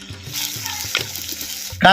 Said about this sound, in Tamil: கந்தலும் கதக்கலுமா அரைச்ச மிளகை சேர்த்து அப்படியே நல்லா கிண்டி விடுறோம்.